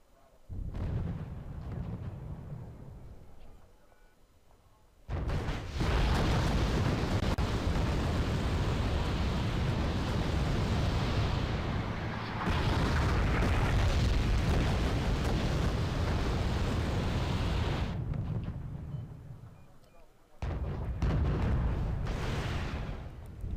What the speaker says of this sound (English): whole course of a battle can be decided based on how well your artillery is aimed